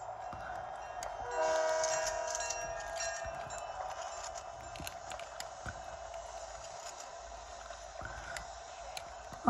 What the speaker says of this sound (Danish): Tog kommer nemlig der.